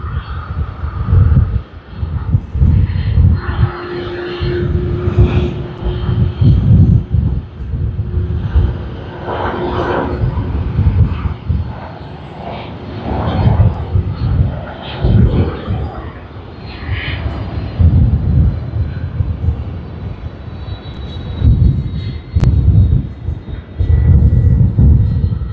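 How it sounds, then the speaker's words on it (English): Aircraft engines roar at Sydney Airport on Australia Day as planes come in one after another, a loud, continuous, rising and falling drone with surges throughout. "Then we should be having the other aircraft just coming in through one after another."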